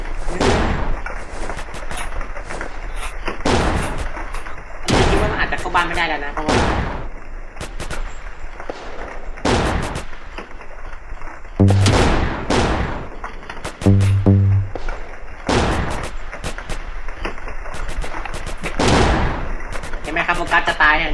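Repeated gunshots from sniper soldiers in the Roblox game Evade crack out in irregular bursts, loud and sharp, with a few muffled low thuds between them.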